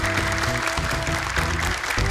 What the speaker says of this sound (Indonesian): boleh tepuk tangan sekali lagi untuk Mimi dan juga Papa